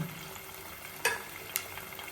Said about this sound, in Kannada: ಚಿಕನನ್ನು ಆಯಿಲಲ್ಲಿ ಹಾಕಿ ಚೆನ್ನಾಗಿ ನಾವು ಫ್ರೈ ಮಾಡ್ತಿದ್ದೀವಿ.